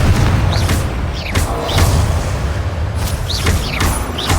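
A Confringo blasting spell in the Hogwarts Legacy video game sets off loud booming bursts, heard as repeated explosive thumps and whooshing effects over a dense, steady wash of game noise.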